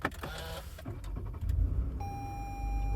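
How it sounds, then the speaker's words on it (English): A car with a push-button ignition starts: a short whir and clicks, then a low engine rumble settling into an idle, joined by a steady electronic tone, close and fairly loud. "Now I'm going to go ahead and turn the car on here."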